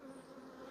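Honey bees humming on an open hive frame, a faint, steady buzzing drone with no break.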